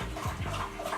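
A dog drinking water on a hot day makes quick, soft, wet lapping sounds close by in a brief moment.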